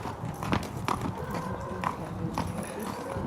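A thoroughbred stallion walks at Newmarket, its hooves striking in an uneven clip-clop at moderate distance with no talk over it.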